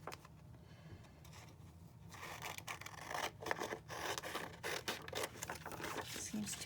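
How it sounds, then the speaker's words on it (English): Scissors snip through paper while a window is cut out by hand for a junk journal, a quiet opening then a run of close crisp cuts and rustles, with sporadic handling noise. "I'm just gonna go ahead and cut out this window"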